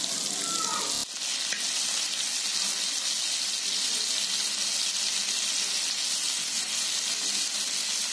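Butter-coated tandoori chicken pieces, dusted with a little cornflour, sizzle and fry steadily in a hot pan, a constant bright hiss that begins with a sharp crackle as the pieces go in.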